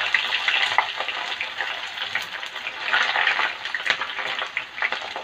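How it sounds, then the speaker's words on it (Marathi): Chopped okra frying in hot oil in a kadhai, a steady dense sizzle with crackling bursts that rise and fall throughout, close and fairly loud with no talk. "हे भेंडे जे आपण चिरले आहेत ते आता आपण तळून घेणार आहोत"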